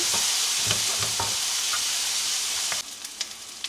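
Onions and tomatoes fry in a pan with a bright, steady sizzle, punctuated by a few scraping stirs, then the hiss drops quieter near the end with small spatters.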